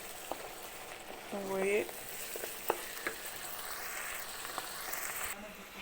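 Blanched flat green beans sizzle in a pan while being stirred, a steady soft frying hiss broken by occasional scraping stirs, with a person briefly speaking nearby.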